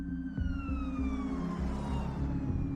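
Ambulance siren wailing close and loud, a steady sweeping electronic tone over a rhythmic low engine or horn pulse that repeats roughly every third of a second throughout.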